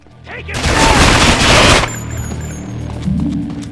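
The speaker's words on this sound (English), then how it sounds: "it allows us to use the Uzi to its fullest potential for the first time" An Uzi submachine gun fires a rapid, loud burst in the video game Manhunt, a dense rattle of shots lasting over a second, followed by quieter game ambience and tones.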